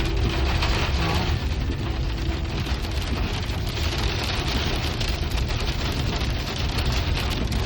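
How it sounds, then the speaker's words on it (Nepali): Hail pelts down hard and steadily on a mountain road near Zuluk in Sikkim, a loud, dense, unbroken clatter and hiss that fills the whole stretch with no pause. "अब हामी असिना पानी खाँदैछौँ"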